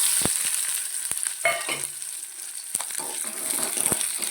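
Chopped garlic, shallots and onion frying in oil for tomato chutney, a soft, continuous sizzle with a few sharp clicks of a spoon against the pan, close and fairly quiet.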